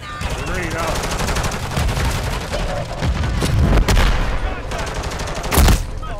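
Dense, loud gunfire in Call of Duty, with rapid machine-gun bursts and a few heavier booming shots running continuously, close and unbroken.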